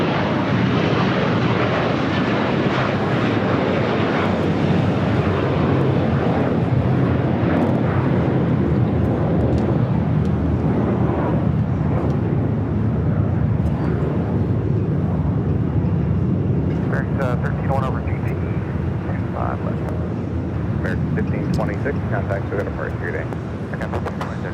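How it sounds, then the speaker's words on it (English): An American Airlines Airbus A321 jet bound for Miami departs LAX, its engine roar steady and loud for the whole stretch, with faint voices talking underneath. "That was American Airlines flight 1526 heading to Miami and in an A321."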